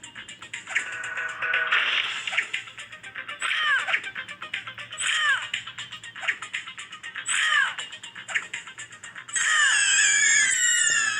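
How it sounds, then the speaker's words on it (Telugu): Rangda, a monster in a shooter video game, lets out repeated loud harsh screeching cries in bursts about every second or two, ending in a longer sustained shriek with no talking over it. "వామో ఎంత గట్టిగా అరుస్తుందో చూడండి రంగుడా"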